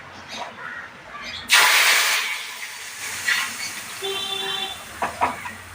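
Mustard seeds sputtering in hot oil in a home kitchen while sambar and fried chicken are cooked; a sudden loud hissing burst sets in, then fades to lighter crackles and pops over a faint background.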